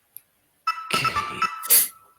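A phone rings with a short, bright electronic tone that cuts in sharply, swells over about a second, then fades out.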